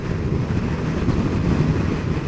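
Steady wind buffets a rider's helmet on a 2014 Kawasaki Z1000SX at speed behind an aftermarket screen, a dense continuous low roar with no pauses.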